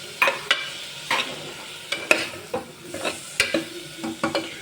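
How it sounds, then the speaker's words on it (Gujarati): Chopped tomatoes stirred and fried in a pan for Kathiyawadi-style masala khichdi, with a spoon scraping in repeated strokes over a soft sizzle, close and moderately loud with no talking. "હવે આપણે ટમેટા એડ કરશું એને પણ મિક્સ કરી લઈશ"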